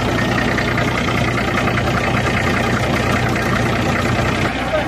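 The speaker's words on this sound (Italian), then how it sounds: "si sente che ha un bel motore." A Renault car engine runs steadily at idle, a continuous low rumble that stays close and even throughout.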